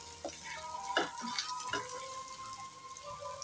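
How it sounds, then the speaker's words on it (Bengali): Cumin seeds, garlic and ginger fry in hot oil, giving a soft low sizzle broken by a few spattering pops and scraping stirs near the start, fairly faint, with no speech. "জিরে ফোড়ন দিয়ে জিরেটা রসুন আর আদার সাথে দেখো একটু ভালো করে আমি ভাজা ভাজা করে নিচ্ছি"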